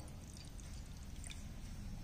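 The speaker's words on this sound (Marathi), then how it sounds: "आता त्याच्यामध्ये आपण पाणी ओतणार आहोत." Water poured from a bowl into gram flour, a steady low pouring gush that runs the whole time at close range, with no talking.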